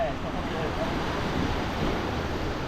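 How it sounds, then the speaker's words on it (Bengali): Sea waves roaring on a rainy day at Ream Park in Cambodia, a steady broadband wash of surf and rain with wind buffeting the microphone, continuous and fairly loud. "বৃষ্টির সাথে সমুদ্রের গর্জন"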